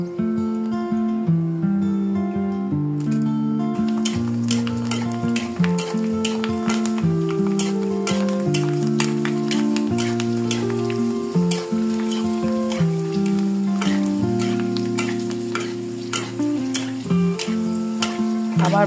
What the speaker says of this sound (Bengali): এভাবে ব্রাউন কালার করে আমি সবগুলা ফুচকা ভেজে নিচ্ছি।